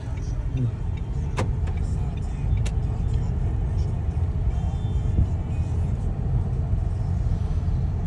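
Car on a driving test route accelerating in second gear, a steady low engine rumble with road noise running throughout and a couple of faint clicks.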